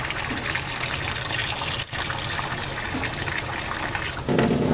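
Water pours steadily into a pan in a home kitchen while sugar syrup is being made, a continuous close splashing gush with a brief pause partway and a fuller, louder flow at the end.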